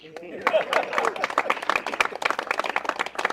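Crowd applause with scattered sharp claps and cheering voices at a Black History Month event in San Diego's Black Arts and Culture District, dense and lively throughout, with talk mixed in.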